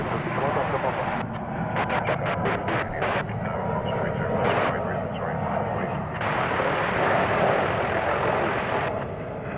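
A Turkish Airlines heavy jet takes off at DFW airport, its engines a sustained, broad distant roar, with radio voices and clicks of air traffic control talking over it.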